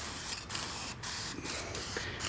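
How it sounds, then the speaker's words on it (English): Brake cleaner hisses from an aerosol can onto a KTM motorcycle cover fresh from an ultrasonic bath, coming in several short, close bursts with brief pauses between them. "Now I'm going to spray it off with some brake clean."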